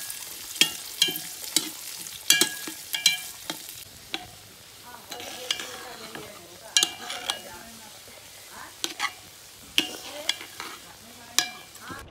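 Rice and chopped vegetables stirred in ghee with garam masala in a pot over a fire: a steady sizzle broken by frequent sharp scrapes and clinks of a spoon against the metal, in a loose irregular rhythm.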